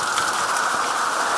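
Cold rain pours down steadily, a dense hiss of drops drumming on surfaces at close range, constant and unbroken, with no voices.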